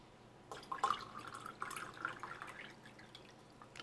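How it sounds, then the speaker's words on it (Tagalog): Cold water poured into a guyabano leaf citron tea, a faint, close trickle and splash of liquid filling a container for a few seconds, heard alone. "At syempre, magdadagdag ako ng tubig na malamig."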